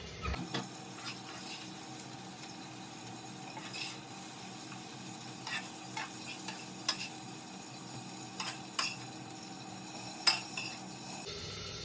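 Potatoes frying in a pan in a home kitchen, a steady soft sizzle running throughout with scattered light clinks and scrapes of utensils against cookware, heard close and fairly quiet with no talking.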